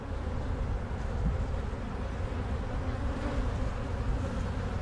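A honey bee colony buzzes during a hive inspection while stronger colonies are split into nucs, a steady, dense drone that stays constant and close throughout with no talk.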